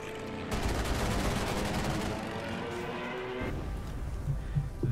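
Rapid machine-gun bursts fire at a Stuka dive bomber in a Battle of Britain air combat game, a dense rattling volley that runs for a few seconds and then stops abruptly.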